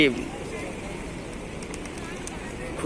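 Pigeons coo faintly amid the open-air bustle of the pigeon square in Mecca, where visitors feed the flock. Nearby voices talk over the soft background.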